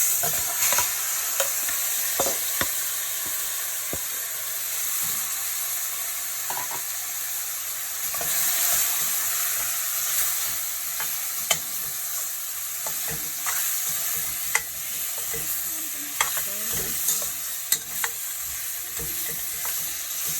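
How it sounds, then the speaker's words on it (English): Turkey neck frying in hot oil with garlic for a Jamaican curry, a steady close sizzle with scattered pops and crackles and occasional spoon scrapes, continuous throughout without talk. "I'm gonna put my turkey neck in it."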